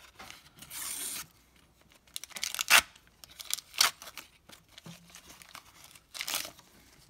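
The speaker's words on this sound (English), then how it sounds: "let's open up this sticker thing just for fun" A sticker pack wrapper being torn open and crumpled by hand up close, with bursts of crinkling plastic and a few sharp tearing rips, fairly quiet with pauses between.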